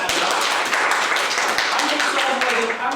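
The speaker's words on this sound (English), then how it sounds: "Clap it up, freshmen." A crowd of college freshmen at a workshop applauds, dense sustained clapping filling the room for the full few seconds at fairly loud level.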